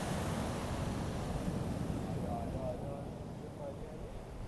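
Sea waves washing onto the shore, a continuous rushing surf with wind noise on the microphone, fading slightly in the last second or two while people talk over it.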